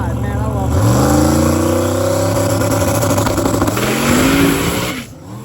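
A teal and white number 55 drag car launches in the right lane of a drag strip and accelerates hard down the track, its loud engine note rising steadily through the gears for several seconds before fading, with a voice talking over it.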